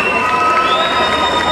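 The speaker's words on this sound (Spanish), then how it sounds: "Gracely Carolina Cabrera, un aplauso para ella" A loud, dense wash of crowd noise at a municipal folklore queens' sash ceremony in Ibagué, cheering and clapping blending together without pause for a brief moment.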